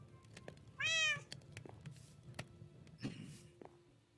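A cat meows once in the Minecraft video game, a clear, fairly loud rising call over faint background game noise and scattered soft clicks.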